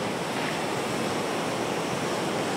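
Bay of Bengal sea waves wash steadily onto the beach at Ongole, a continuous broadband roar of surf with wind noise on the microphone and no voices.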